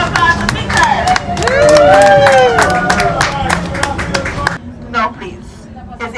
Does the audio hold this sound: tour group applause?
yes